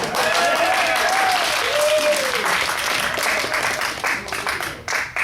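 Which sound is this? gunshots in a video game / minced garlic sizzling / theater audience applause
theater audience applause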